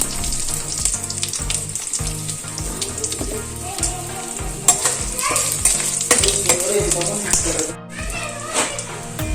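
Spices, a pinch of asafoetida and chopped onions sizzle and fry in hot oil for Andhra-style spinach dal, a continuous crackle with stirring scrapes while someone talks over it.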